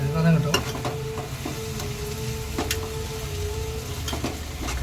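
Onion, tomato and dried red chilli sauté in a pan for chicken masala, giving a steady close sizzle with scattered stirring scrapes and clinks throughout, no voices.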